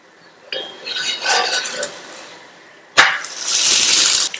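Oil spread over a chapati cooking on a hot pan: sizzling and rasping scrapes in two bursts, the second louder and longer, close up with no talking.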